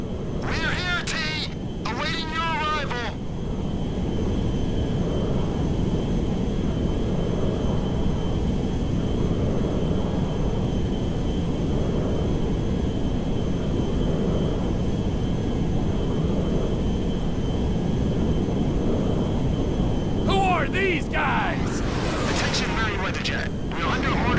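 Jet aircraft in the GTA 5 mission Minor Turbulence, a loud continuous roaring engine rumble filling the whole span, with brief bursts of voices and radio chatter near the start and end.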